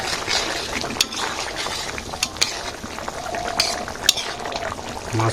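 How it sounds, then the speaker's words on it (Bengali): Cumin and garam masala paste stirred in a frying pan, a steady sizzle under the scrape and clink of a metal spoon against the pan, with a few sharp knocks. "জিরে গরম মশলা বাটা দিয়ে দিই"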